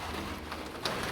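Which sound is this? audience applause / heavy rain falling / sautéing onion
heavy rain falling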